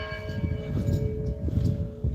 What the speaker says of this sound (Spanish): Doblan las campanas